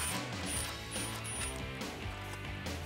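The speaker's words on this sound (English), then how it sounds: "So we're gonna pull this backing plate just to get it out of our way. So we're back to the 8 millimeter socket." An 8 mm socket on a ratchet backs out backing plate bolts on a 2015-2019 Mustang, a close, steady run of fine metallic clicking and whirring under a dense mechanical clatter throughout, with no talking.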